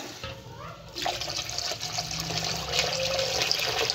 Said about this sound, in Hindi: तकरीबन मैंने 3 लीटर पानी शामिल किया है इसमें।